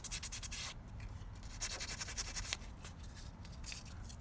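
Sandpaper rubbing a guitar nut by hand, close and quiet, with quick back-and-forth scratchy strokes in short irregular bursts.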